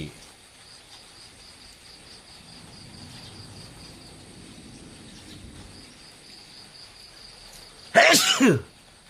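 A man sneezes once near the end, a loud, close burst that breaks a long quiet stretch filled only with a faint background hum.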